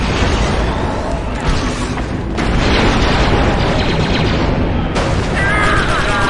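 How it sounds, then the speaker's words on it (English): A loud explosive charge detonates in Star Wars Republic Commando, a sustained booming blast with crackling debris and rumble that fills the whole stretch, with a second surge partway through. "The charge is set and ready to detonate."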